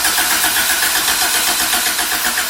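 A Honda Civic EG with a swapped B16B engine cranks, its starter whirring in a rapid, loud, even rhythm close by, with no talking.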